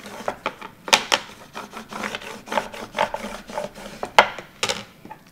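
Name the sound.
scraping vinyl flat with a scraper tool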